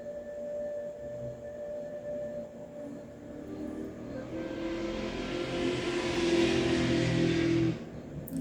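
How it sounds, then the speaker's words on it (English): Loud, annoying engine noise rumbling in the background, a steady low drone that swells louder and brighter midway as if revving or passing close, then drops off abruptly near the end. "you heard that engine right in the background, that loud, annoying ass noise"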